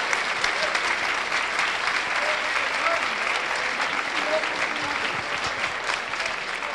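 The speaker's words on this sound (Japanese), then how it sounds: "また一段と皆さんが拍手をお願いします" A crowd gives dense, steady applause for Efren Reyes, winner of the Tokyo 9-ball final. The clapping carries evenly through the whole stretch with no break.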